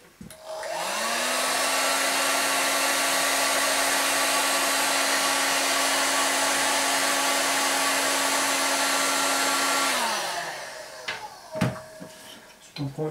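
A heat gun warms shrink tubing on a MacBook charger cable, a loud steady whooshing blower with a droning motor tone that runs for about ten seconds and then shuts off, followed by a few faint clicks and handling knocks.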